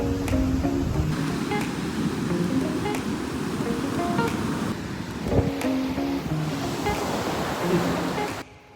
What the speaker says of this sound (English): behind me is the ocean